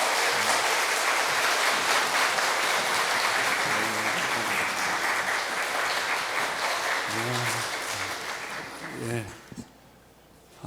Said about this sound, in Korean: 김인환 목사님 나오실 때 뜨거운 환영의 박수 해주시면 감사하겠습니다